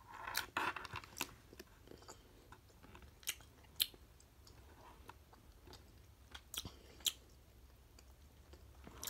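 A flamingo-shaped gummy candy bitten and chewed close to the mic, with soft squishy chews and a few faint sharp clicks over a quiet background, without speech.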